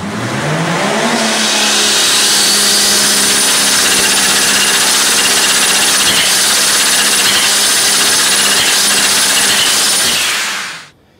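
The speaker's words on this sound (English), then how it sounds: "The first scenario is when you get that compressor surge sound" Turbocharger or supercharger compressor surge on a car, a loud, continuous rushing and fluttering whoosh with a rising tone at the start, sustained close up for about ten seconds before cutting off.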